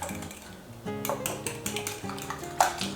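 Wet cake batter with added milk stirred in a bowl at home, with a spoon or whisk scraping and tapping against the bowl in a steady rhythm over soft background music, close and moderately loud.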